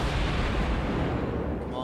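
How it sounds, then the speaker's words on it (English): Naval guns fire in the World of Warships video game, a dense, rumbling blast of heavy gunfire filling a short burst loudly and close, with no speech. "Couple of guns going off."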